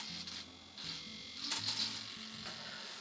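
Servos on a Durafly Brewster F2A Buffalo RC model plane buzz and chatter in short stepped bursts as the control surfaces move, faint and close with a high whine.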